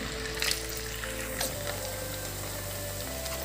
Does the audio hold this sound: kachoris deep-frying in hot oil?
yes